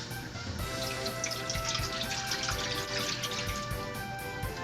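A steady stream of water pours and splashes continuously into a cooking pot, close and constant, with a faint low hum in the background.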